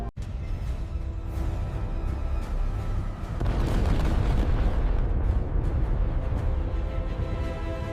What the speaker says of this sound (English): The explosion created a fireball more than 100 feet high